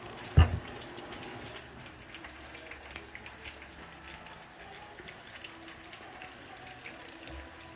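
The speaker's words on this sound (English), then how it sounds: "you want to go ahead and pour that barbecue sauce all over" Mild, sweet barbecue sauce poured over chicken tenders in a home kitchen gives a quiet, steady liquid trickle lasting several seconds, opening with a brief soft knock.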